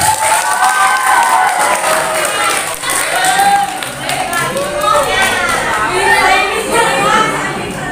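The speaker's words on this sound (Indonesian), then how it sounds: "kita kasih tepuk tangan biar semangat." Vocational high school students at a Prophet Muhammad birthday (Maulid) event clap and cheer loudly together, a dense crowd din with voices shouting over the applause.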